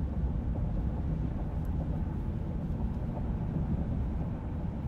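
Steady low rumble of road noise inside a 2020 Ram 2500 pickup truck cabin at highway speed, with the AC off, a constant broadband drone with no talking.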